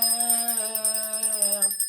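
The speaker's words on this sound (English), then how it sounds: "Let me move all this bad juju from around you and ring my bell." A small hand bell rings steadily for about two seconds, its bright sustained tone shimmering with rapid repeated strikes, close and clear with no talking.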